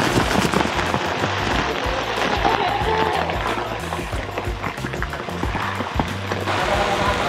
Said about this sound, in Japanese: わりかしちゃんと降ってる雨ですね。